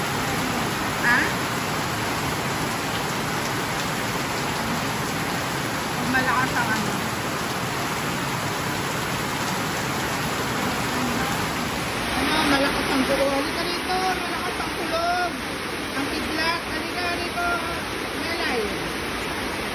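Very heavy rain pours down in a constant, loud hiss and roar. Voices talk faintly at times under the downpour.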